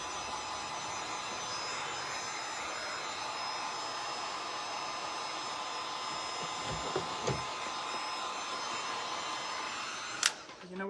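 A hair dryer blows steadily on a painted door hanger, a constant airy whir that runs nearly unbroken with a few soft knocks near the end.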